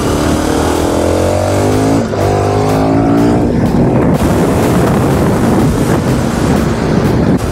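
A 1290 cc road motorcycle with around 160 horsepower riding past dams in the upper Dordogne, its engine droning steadily and rising in pitch as it revs, heavily buried under loud wind rush.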